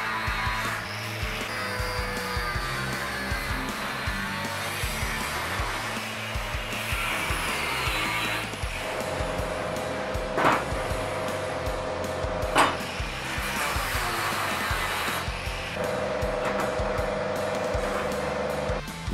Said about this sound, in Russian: С помощью болгарки и отрезного круга из металла вырезал тесак.